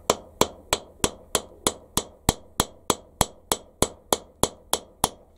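Annealed brass is hammered flat on a small high-speed steel anvil held in a vise, about sixteen sharp, evenly spaced metallic strikes ringing out close and loud with short decays between them.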